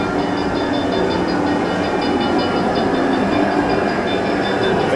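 The Ghost Train ride at Blackpool Pleasure Beach gives off a constant, loud rumbling roar of rail cars on track, an unbroken mechanical clatter close by that never lets up.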